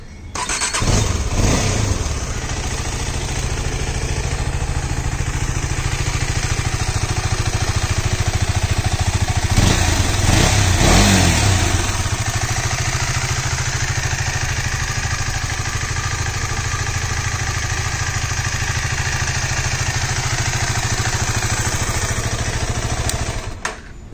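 KTM Adventure 250 motorcycle engine and exhaust running steadily at close range, a loud continuous idle with a brief rev swell partway through and no talking.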